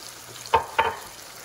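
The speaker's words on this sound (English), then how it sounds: "And let's just saute." Minced garlic, seasoned with salt and pepper, sautés in a pan for a cavatelli and shiitake mushroom dish; two quick, close stirring scrapes stand out over a faint, steady sizzle.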